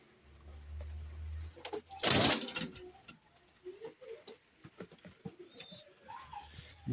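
Breeding pigeons or doves coo softly indoors, low repeated calls scattered over several seconds, with a loud rustling burst early on and faint tapping and shuffling around them.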